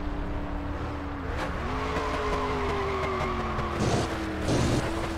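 Dustman GT car in My Summer Car spinning out, a steady engine drone with long tire squeals sliding down in pitch, followed by two rough bursts of gravel-like skidding near the end.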